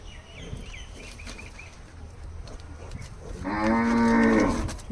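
A cow at a livestock market by a bus stand gives one loud, drawn-out moo close by near the end, after a stretch of distant crowd murmur and faint bird calls.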